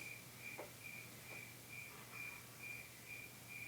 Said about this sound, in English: Okay, enough with the crickets.